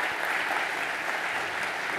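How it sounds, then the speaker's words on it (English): Steady audience applause at a London tech summit, a dense, even wash of many hands clapping that holds at a constant level throughout, with no one speaking over it. "please give a huge round of applause for the customer speakers and product presenters today"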